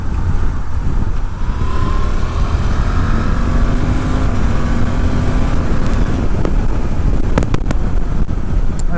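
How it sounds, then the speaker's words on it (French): A Suzuki V-Strom 800DE motorcycle accelerates hard and then brakes firmly, its engine note rising under a steady rush of wind noise throughout, with a few sharp clicks near the end. "là, avec une grosse accélération, un freinage appuyé"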